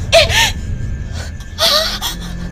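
Heavy, frightened breathing from someone fleeing in terror: two loud, close, breathy gasping bursts with strained, whimpering voiced edges, separated by a short pause.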